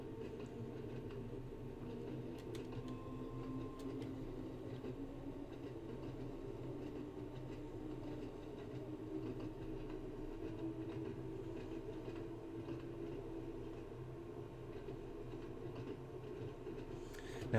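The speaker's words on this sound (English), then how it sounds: "And now I'm going to start accelerating up to the new 40 mile per hour speed restriction." Isle of Wight train in Train Sim World 2 accelerating up to 40 mph, a steady low rumbling drone with faint wheel clatter running continuously at moderate level.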